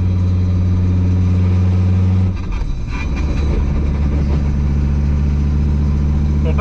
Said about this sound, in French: ça fait un bordel par contre, parce que c'est normal, il y a juste un petit tube de merde en guise d'échappement